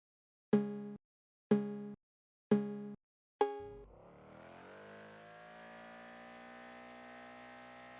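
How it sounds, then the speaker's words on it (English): Four short, identical electronic beeps count down at an even pace, then a synthetic car engine hums and rises steadily in the racing video game Road to Exotics. "the car noises are nothing to write home about"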